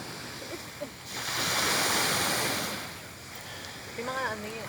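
Waves wash onto the seashore at night in a single swelling surge, with wind buffeting the microphone and a voice speaking briefly near the end.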